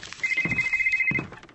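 A cell phone rings inside the video game Fearless Fantasy, a steady electronic trill lasting about a second, fairly loud and alone with faint background game sounds.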